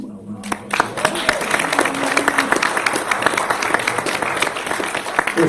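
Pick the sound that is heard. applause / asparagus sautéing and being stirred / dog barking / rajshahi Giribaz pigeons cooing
applause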